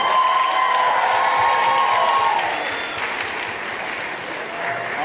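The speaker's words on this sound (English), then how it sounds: "let's give a round of applause to all our teams here today" An audience at a dance competition livestream applauds the competing teams, a dense, loud wash of clapping and crowd noise with some cheering that holds steady and then eases slightly toward the end.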